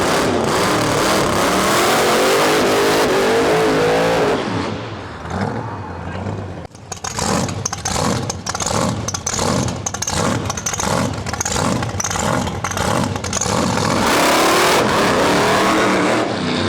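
A drag racing funny car roars loud and close down the quarter-mile at a Western Canada heads-up event, the engine noise dipping briefly before rhythmic pounding bursts return and build again, with possible announcer talk underneath.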